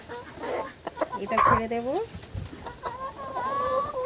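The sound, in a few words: chickens clucking while being caught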